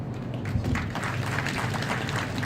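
An audience at a bar council function claps in a dense, continuous round of applause, many hands together at moderate volume with no speech.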